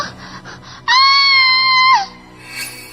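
A girl lets out a single loud, sustained scream of fright lasting about a second, sharp and piercing, then it breaks off into quieter background sound.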